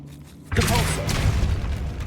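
The Depulso spell cast in the Hogwarts Legacy video game, a sudden booming blast that bursts in after a brief quiet and rumbles on at full strength, with a voice over it.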